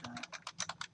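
Quick, light tapping of fingers on a computer keyboard, about eight soft clicks in rapid succession, faint and close.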